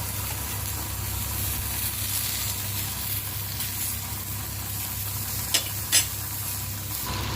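Chicken kebab pieces sizzle and fry steadily in a pan just after being turned, a continuous close crackle with a couple of brief louder sputters near the end.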